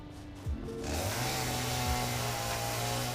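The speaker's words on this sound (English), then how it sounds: "When I use the chainsaw, it's kind of loud." A chainsaw running in the Satisfactory video game, a loud, steady mechanical drone that starts with a brief rev and holds level to the end.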